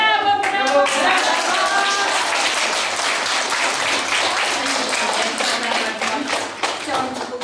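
Children applaud in a kindergarten, with a dense burst of close clapping that carries on steadily and starts to thin toward the end while a voice speaks over it.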